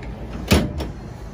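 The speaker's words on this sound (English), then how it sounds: "And these really nice drawers here, these come out" Drawers in the back of a Volkswagen Transporter T6 van slide out with a quick rolling rumble followed by a softer second slide, close and brief.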